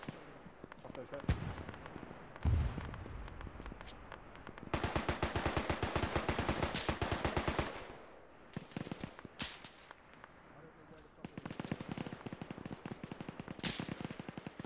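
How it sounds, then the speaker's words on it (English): Sustained automatic machine-gun fire from the Arma 3 video game, long rapid bursts of sharp cracks with scattered single shots and pauses between, loud and close, with voices talking over parts of it. "Yeah, we are taking fire here."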